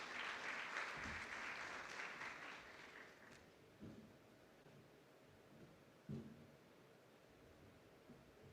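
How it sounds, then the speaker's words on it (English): An audience at an app launch event claps as a guest comes up, a fairly faint burst of applause that fades out after about three seconds, followed by quiet room tone with a few soft bumps. "We can clap for him as he comes."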